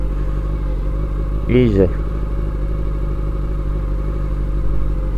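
A motorcycle engine drones steadily right through, close and loud, as the bike is ridden through corners, with a short spoken word near the start.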